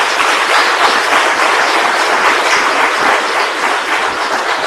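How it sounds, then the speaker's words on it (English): Dense, steady applause from a large audience at a regional State of the Region address in Erongo, filling the whole stretch loudly and evenly without any speech over it. "Round of applause."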